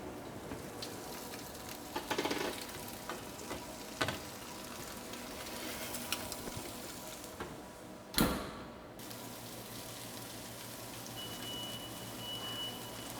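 Steaks and shrimp sizzle inside a Fagor combi convection oven, a steady soft crackling hiss running throughout at low level, with a brief louder burst midway.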